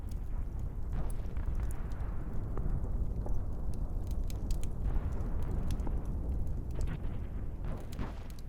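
Heavy bombing over Japan rendered as a continuous roar of deep explosions, rumbling booms stacking over one another at steady high volume with scattered sharper cracks, and no voices.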